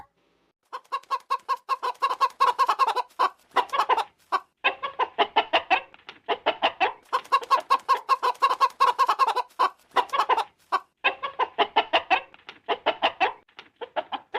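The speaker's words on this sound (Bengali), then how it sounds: "এই বুড়ি তো দেখছি তার মুরগিকে খেতে দিচ্ছে" Chickens cluck steadily as an old woman scatters feed for them, a close, busy flock chattering in rapid rhythmic bursts with only short pauses and no human voices.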